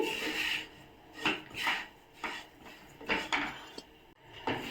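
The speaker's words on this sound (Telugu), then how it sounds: "ఇవి రవ్వ కలర్ వచ్చే వరకు బాగా ఫ్రై చేసుకున్నాము" Semolina roasting in a pan is stirred with a spoon, giving soft repeated scraping and rubbing strokes in an uneven rhythm, close and fairly quiet, with no voices.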